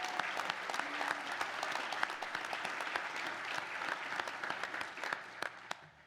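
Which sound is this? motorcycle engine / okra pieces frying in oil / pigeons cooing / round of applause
round of applause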